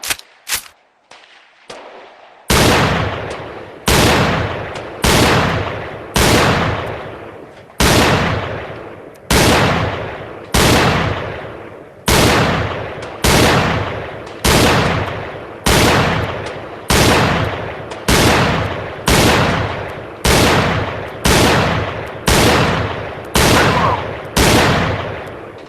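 Gunshots ring out at a shooting range in a VR shooting game: a brief opening burst, then a steady run of about twenty loud, evenly spaced single shots, each with a sharp crack and a long fading tail, heard alone without talk.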